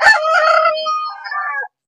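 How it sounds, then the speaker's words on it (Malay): A rooster crows once in a mixed village chicken coop holding free-range and laying hens, a close, loud, full cock-a-doodle-doo lasting under two seconds, heard alone. "Kokok pula dia."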